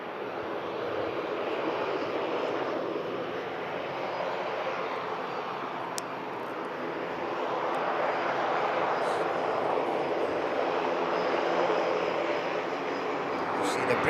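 Aircraft engines roar at Manchester Airport as planes arrive, depart and taxi, a broad, steady distant drone that swells gently in the middle, with a voice faintly present in the background.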